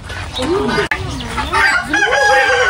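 Loud, close chicken clucks and squawks in a quick run, with a brief thump partway through.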